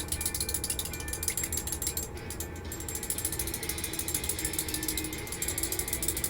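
Paint is mixed in a cup for a 1/32 scale P-40E Warhawk model, a rapid, even ratcheting buzz of a mixing tool, close and continuous with a brief dip partway through.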